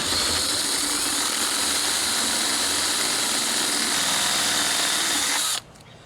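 A power drill runs at high speed, driving threaded inserts into the windshield channel of a Jeep Wrangler YJ. It holds a loud, steady whine for about five and a half seconds, then cuts off abruptly.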